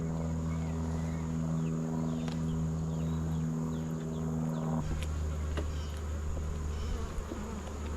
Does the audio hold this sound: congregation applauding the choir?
no